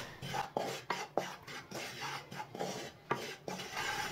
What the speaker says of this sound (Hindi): ऐसे ही इसे भूनना है चम्मच चलाते हुए।